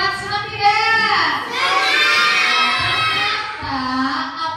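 Children in a classroom cheer and shout together for a group of classmates, a loud, continuous burst of young voices rising and sustained for several seconds, with no clear clapping standing out.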